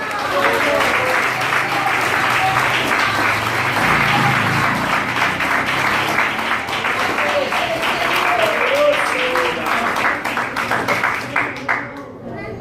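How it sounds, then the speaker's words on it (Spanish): A church congregation applauds loudly for the Lord during a Spanish-language service, dense sustained clapping from many people filling the room for over ten seconds, with voices and cheers mixed in before it fades at the end. "denle un fuerte aplauso al Señor"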